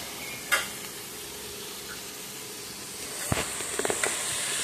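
Onions fry in a pan for chicken biryani, a steady soft sizzle with a sharp scrape at the start and a short run of spoon stirs and clinks near the end.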